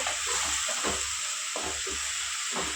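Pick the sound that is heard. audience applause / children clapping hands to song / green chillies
green chillies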